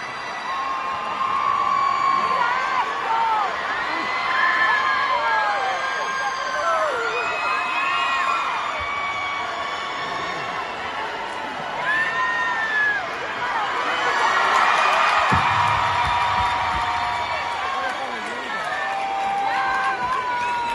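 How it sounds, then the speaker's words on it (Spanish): A live concert crowd cheers, whoops and shouts with sustained applause after a marriage proposal on stage, loud and continuous throughout with a swell of excited screams near the middle. "El público celebró la pedida de mano y alentó a la pareja con sus aplausos y gritos fervientes"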